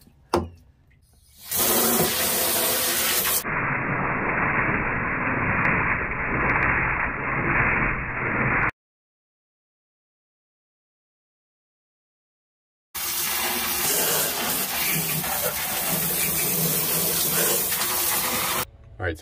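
Water and soap rush through a boat bilge to flush it clean, a loud, close gushing that pours in long bursts and then breaks off into silence for several seconds before flowing again.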